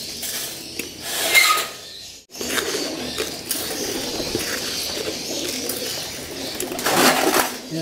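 Pigeons coo softly in a loft aviary, with low murmuring calls and faint rustling throughout and a brief quiet gap partway through.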